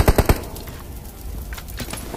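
A quick burst of three sharp, loud gunshots from a mobile battle royale game rings out close by at the start, then gives way to softer, scattered game noise with fainter distant shots.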